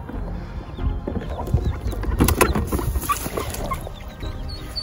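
A mother duck calls with a run of rough, clucking quacks close by, irregular and busy, with some rustling around it and no talk.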